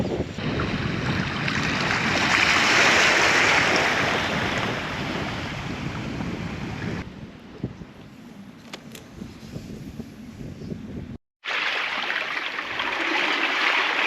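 Sea waves rolling in over coastal rocks as the tide rises, a continuous loud wash and rumble with wind buffeting, a brief quieter stretch and one short dropout, no talking.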